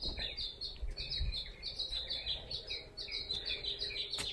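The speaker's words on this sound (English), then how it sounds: "Those birds hanging on that." Small birds chirp and tweet in quick, repeated bursts in a garden near a bougainvillea, faint and a little distant, with no talk over them.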